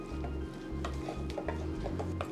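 Mutton liver pepper fry with curry leaves being stirred in a pan, with scraping strokes and soft knocks of a spoon over a low sizzle, close by.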